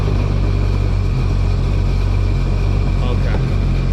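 A 20-year-old jetski engine running after being fired up, a loud, steady low rumbling idle with a constant throbbing drone close by, and a voice briefly heard over it.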